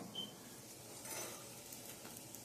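Sourdough bread browning in a hot pan, a soft steady sizzle running throughout with faint scrapes of a utensil against the pan, close and quiet, no talking.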